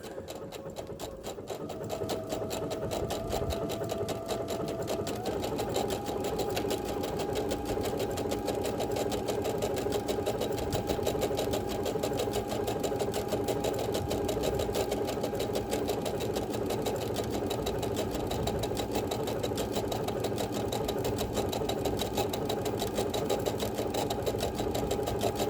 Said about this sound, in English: continue stitching out. And I'll speed up the machine a little bit